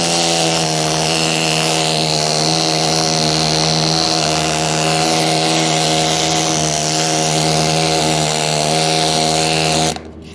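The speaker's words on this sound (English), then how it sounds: "But what's the needler do? It removes the weld slag or scale." A needle scaler chatters against steel to knock off weld slag, a loud, harsh continuous buzzing rattle held close for about ten seconds before cutting off abruptly at the end.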